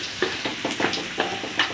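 Ground chili stirred into shallots already browned in oil in a pan while cooking Padang-style fried rice vermicelli. Rhythmic scrapes of the spatula repeat every few tenths of a second over a continuous close sizzle.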